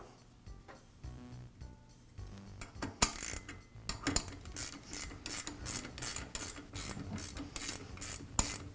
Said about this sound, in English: And I'll secure the lever with the nut.